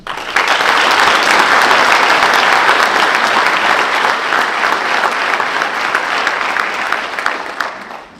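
Sustained, loud applause rises from a crowd at a military change of command ceremony at Camp Roberts, California, holding steady for around eight seconds before tapering off.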